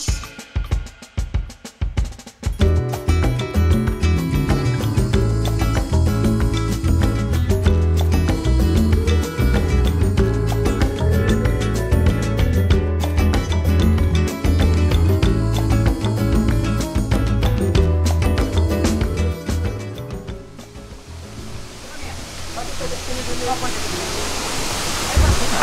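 A waterfall in Bali pours in a dense, steady roar of falling water, close and constant, with people talking over it before it thins out near the end.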